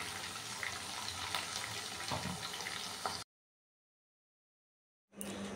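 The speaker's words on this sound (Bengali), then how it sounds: "বাটিটা ধুয়ে এই মশলাটা পুরো দিয়ে দেবো।" Water from a tap rinses a bowl of leftover spice paste in a home kitchen, a loud steady splashing rush for about three seconds, then it cuts out abruptly before resuming briefly.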